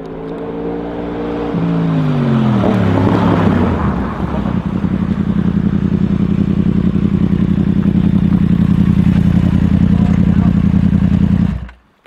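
A 2016 Yamaha MT-10 motorcycle engine drops in pitch as it slows, then holds a loud, steady, throbbing drone up close while riding, cutting off abruptly at the end.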